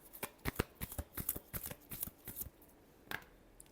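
Tarot cards shuffled by hand in a burst of crisp, rapid riffling clicks for about two and a half seconds, then a pause and a single soft card snap near the end, close and fairly quiet.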